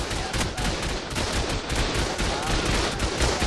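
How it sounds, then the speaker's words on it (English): An automated turret in the survival game Ark fires nonstop, a dense, loud rattle of rapid shots that fills the whole stretch with no pause. "Turret shooting you drains gas."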